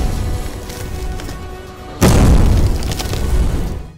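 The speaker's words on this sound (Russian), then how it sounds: "достаточно насыпать их на небольшой пустой чемодан, а потом от души стукнуть по нему бейсбольной битой." Film sound effect made by hitting a small empty suitcase filled with sand with a baseball bat: one loud, heavy close-up boom that starts abruptly midway and then rumbles out under a steady background.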